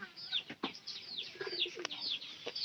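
Pigeons kept in a loft during hot weather give soft coos, chirps and brief wing flaps, fairly quiet with several short bursts spread over a few seconds.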